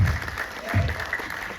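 Audience applause for Vinod Bhanushali at a film trailer launch event, a short burst of clapping from a crowd with low thumps throughout.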